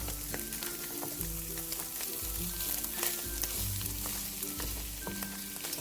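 Corned beef hash left to brown on one side in a frying pan, a continuous close sizzle with crackles and spits and some low kitchen hum beneath, no voices.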